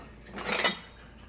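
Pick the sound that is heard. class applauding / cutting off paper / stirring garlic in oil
stirring garlic in oil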